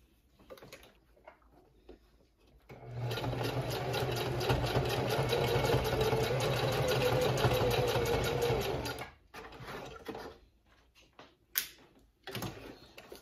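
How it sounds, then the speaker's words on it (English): A sewing machine running a stretch stitch to attach leotard straps, a steady mechanical whir with rapid needle ticking for about six seconds, bracketed by quieter handling clicks and rustles before and after. "So I'm going to use the same stretch stitch that we used before and sew this into place."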